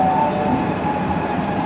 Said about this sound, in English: We are on board of Madrid's subway to give our score on transportation